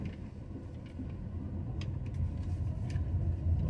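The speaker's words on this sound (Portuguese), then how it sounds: "parece que tá vindo um carro ali" A car approaching along a tight, narrow street in the Cosme de Farias neighborhood of Salvador, Bahia, a low engine rumble that swells steadily louder as it nears.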